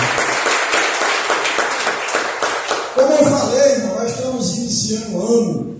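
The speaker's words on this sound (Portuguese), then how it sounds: "Aplauda o Senhor mais uma vez com alegria" A church congregation claps together in a steady, loud burst of applause, while a preacher's amplified voice speaks over the clapping and continues after it fades.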